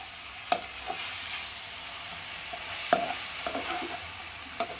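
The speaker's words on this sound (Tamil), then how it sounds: "முருங்கைக்கீரை 2 மினிட்ஸ் வெந்துடுச்சு. கிளறிக்கலாம்." Drumstick leaves frying in a pan are stirred with a spatula, giving a soft steady sizzle broken by several sharp scrapes and taps at uneven intervals, close and fairly quiet, with no speech.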